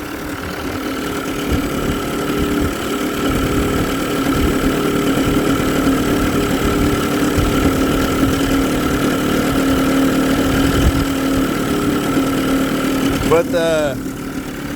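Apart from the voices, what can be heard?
1993 Evinrude 30hp two-stroke outboard engine idling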